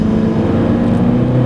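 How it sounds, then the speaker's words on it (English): A Tata Hexa with automatic transmission accelerates at full throttle in sport mode, heard from inside as a loud, steady, droning engine hum. "I put it to S, Sport, and let's floor it."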